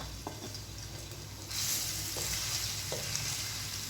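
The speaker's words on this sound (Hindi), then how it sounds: "उसके बाद आप लोगों ने लहसुन अदरक का पेस्ट डाल के इसको लाइट सा ब्राउन करना है।" Garlic ginger paste fries in oil in a pan, a steady close sizzle that grows louder partway through, with a few soft stirring clicks and scrapes.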